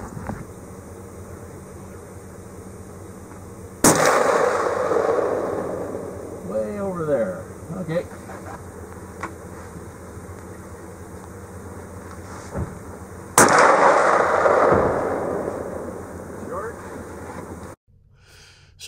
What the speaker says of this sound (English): we had some RCMP guys and they were shooting their sniping rifles